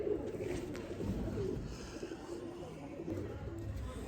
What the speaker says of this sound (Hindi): मशहूर ज़माना दोस्तों सियालकोट दे काले मुँह वाले कबूतर